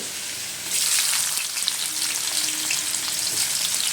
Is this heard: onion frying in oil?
yes